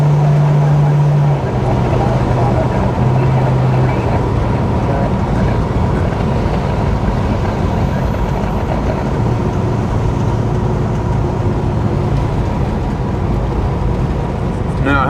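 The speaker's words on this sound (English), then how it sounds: "So thanks to cute Jody, I'm going for a drive on somewhere I've never been before" Car driving on an unfamiliar road, a steady droning engine and road noise filling the clip at a constant level, with a few brief low tones near the start.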